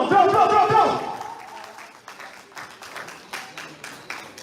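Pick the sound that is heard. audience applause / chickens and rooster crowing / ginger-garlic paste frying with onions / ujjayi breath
audience applause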